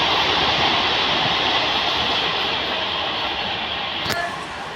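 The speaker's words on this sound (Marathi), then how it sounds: "हे आहे उमरगाव स्टेशन." A train at Umbergaon railway station on the Maharashtra–Gujarat border, a steady loud rumble of rolling cars filling the platform throughout, with a brief sharp squeal or clank near the end before it eases.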